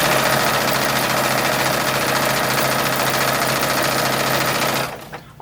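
Close and loud, a sewing machine runs steadily, stitching a 1930s dress bodice to its skirt, its even motor whir and rapid needle chatter holding for about five seconds before stopping abruptly.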